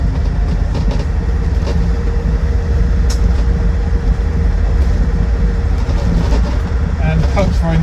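A restored 2003 Land Rover Defender 90 TD5 six-seater, otherwise mechanically standard, drives along with a steady, loud diesel drone and road rumble, a voice talking over the cabin noise throughout.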